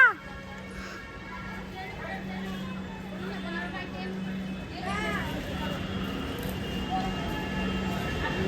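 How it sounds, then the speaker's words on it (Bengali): A train pulls into a station platform with a steady rumbling hum and squealing tones, while people talk and station crowd noise fills the background. "ট্রেন অলরেডি ঢুকে গেছে।"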